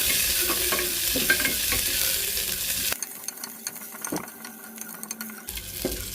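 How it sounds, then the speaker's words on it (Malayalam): Ginger, garlic, green chilies and curry leaves being sautéed for a soya chunks kurma: loud sizzling and stirring at first, then the frying quietens while a spatula scrapes and taps against the pan in short strokes. "ഇഞ്ചി ചേർത്ത് നന്നായിട്ടൊന്ന് വഴറ്റി കൊടുക്കുക"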